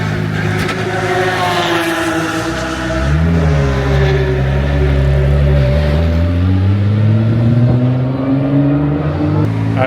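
Race cars, among them a Praga, lapping hard at the Le Castellet circuit, with loud, continuous engine roar. Engine pitch rises and falls through gear changes and revving, and the cars sound close throughout.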